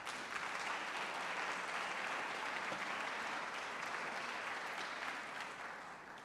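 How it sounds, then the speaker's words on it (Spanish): Sustained audience applause at a business event in Mexico or Miami, dense and steady clapping from a large crowd that fades slightly toward the end, with no voices over it. "Un aplauso para Vero."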